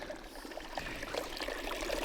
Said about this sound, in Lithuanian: Čia pro apačią kažkur bėga.